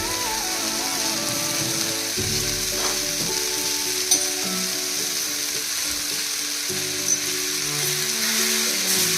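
Grated coconut with onion and tomato roasting in a pan, a loud, continuous close sizzle with a faint hum and a few sharp clicks of stirring.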